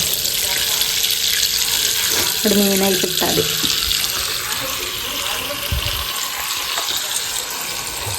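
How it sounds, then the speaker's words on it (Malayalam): Tap water runs steadily into a wash basin, a broad continuous rush with a few clinks of handling partway through and faint talk underneath. "മറ്റേ വാഷ് ബേസിൽ വെള്ളം പിടിച്ച് വെച്ചിട്ട്"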